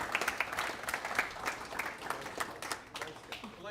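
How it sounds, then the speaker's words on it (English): A round of applause at a monthly meeting: a few seconds of scattered, moderately distant clapping from a small group, with voices mixed in. "let's give them a round of applause"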